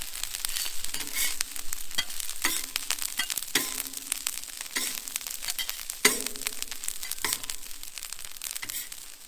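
Halloumi and steak sizzle and crackle in a hot pan, with a constant frying hiss broken by sharp clacks and scrapes of turning and stirring, close and alone.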